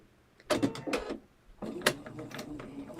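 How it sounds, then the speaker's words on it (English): A sewing machine runs quick stitches through fabric in two short mechanical bursts separated by a brief pause, close and moderately loud in a quiet room. "So I'm just going to take it to the sewing machine and do a quick"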